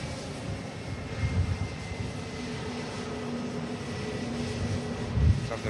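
A Ryanair jet landing in from Faro rumbles as a broad, steady roar from a distance, holding fairly even with a slight swell toward the end.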